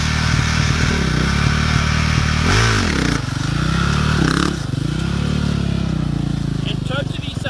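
Motorcycle set up with a cable wheelie limiter, revving loudly and close during a wheelie demonstration, with rising and falling engine swoops, a scraping clatter midway and voices talking over it.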